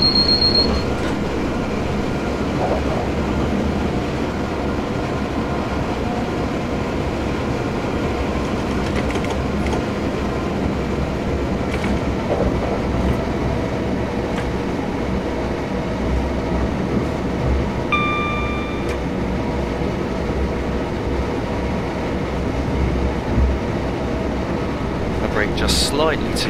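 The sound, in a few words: train running through tunnel, from video game Train Simulator 2015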